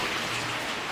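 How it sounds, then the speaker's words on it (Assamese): Steady rain falls throughout, a soft continuous hiss of drops on surfaces, even and close with no voices. "বৰষুণত জিকিব লাগিলে।"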